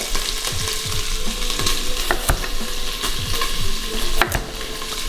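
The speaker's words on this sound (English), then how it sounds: "The lardon is almost done rendering" Pork lardons rendering in an Instant Pot give a loud, steady sizzle and crackle, with scattered pops and stirring clatter near, and no voices.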